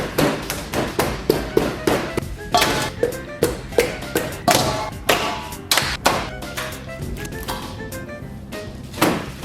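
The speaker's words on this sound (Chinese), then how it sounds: "拿刀背，把它的肉打松散" The back of a kitchen knife pounds raw chicken meat, producing a long run of sharp, rhythmic thuds and knocks on a cutting board. The strikes come at a brisk, steady pace, close and loud, with no talking.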